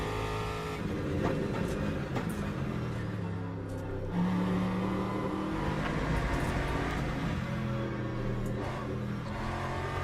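GT3 race cars in the Le Mans Ultimate sim hum and whine steadily through a run, engine tone shifting with gear changes at a low, even level, without talk.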